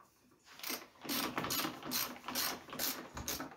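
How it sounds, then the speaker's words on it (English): Socket wrench ratcheting a bolt tight on a table conversion, a series of quick rasping clicks in about seven short bursts, close and crisp with brief pauses between strokes. "we're going to turn it in, use the socket wrench"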